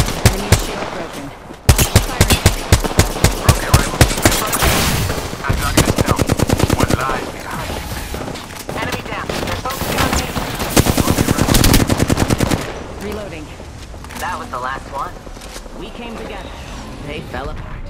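Rapid bursts of automatic gunfire in the Apex Legends battle royale game, loud and near, with dense rattling volleys broken by short pauses and single shots, fading into quieter effects near the end.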